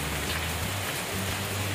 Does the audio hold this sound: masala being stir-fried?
no